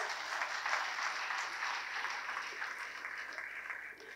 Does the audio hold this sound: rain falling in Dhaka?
no